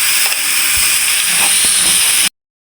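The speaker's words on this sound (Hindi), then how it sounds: "जब तक इसका पोटैटो इसमें मिक्स नहीं हो जाता हम इसको भूनेंगे।" Potato and tomato gravy frying hard in a hot pan, a loud continuous sizzling hiss held steadily close up, broken by a few faint stirring taps before it cuts off abruptly.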